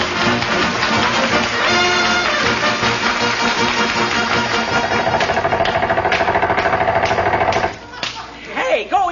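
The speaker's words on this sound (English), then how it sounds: "we'll have to use air hammers and chop him loose" Air hammers chop into fresh pavement as a radio drama sound effect, a loud, rapid, continuous hammering rattle with an engine-like drone, close and steady, with voices over it near the end.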